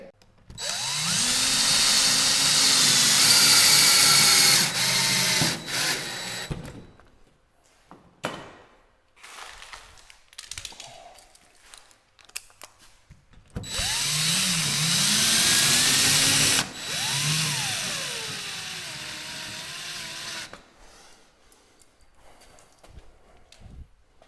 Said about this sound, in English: Take my drill and pop it partially in the wall.